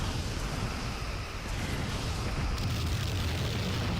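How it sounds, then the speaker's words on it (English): A giant ship explosion in the Star Trek Armada 3 space strategy game, a sustained loud roaring blast with deep rumble and hiss lasting throughout, heard alone without voices. "A giant explosion."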